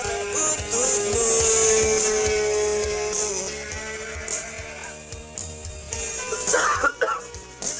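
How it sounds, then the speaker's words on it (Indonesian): A man coughs in a few harsh bursts, heard indoors over a sustained musical drone that fades, with short scuffling noises toward the end. "Eta teh kayak suara batuk cowok nih."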